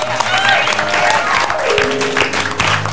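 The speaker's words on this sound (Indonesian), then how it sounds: "Begitu, tepuk tangan dulu dong." Studio audience applause on the Indonesian TV talk show Rumpi No Secret: a dense, steady wash of clapping that stays loud throughout, with musical tones running underneath.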